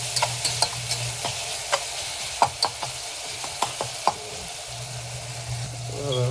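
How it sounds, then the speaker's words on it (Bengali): Onions fry with a little salt in a pan, sizzling steadily while a spatula scrapes and clacks against the pan in irregular strokes, close and fairly loud, with no talking. "এখন একটু ভুনা করে নিতেছি, পেঁয়াজগুলো একটু গলে আসুক।"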